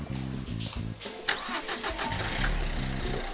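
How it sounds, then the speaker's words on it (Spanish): A car engine cranks repeatedly in short bursts, struggling and failing to catch, with a few loud starter pulses separated by brief pauses, close by. "¡Vaya, este coche no arranca!"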